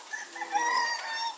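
A chicken crows and clucks, a bright, steady call lasting over a second with no voices around it.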